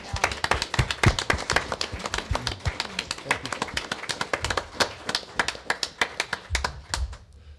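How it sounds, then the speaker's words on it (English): Applause from a small group at a board meeting, sparse, distinct hand claps in an uneven rhythm that thin out and stop, with a faint voice at the end. "I'd like to offer a round of applause"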